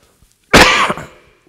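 A single loud, close cough during a church sermon, a sharp burst that trails off over about half a second, with near silence before and after.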